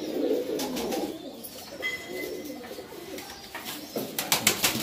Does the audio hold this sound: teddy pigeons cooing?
yes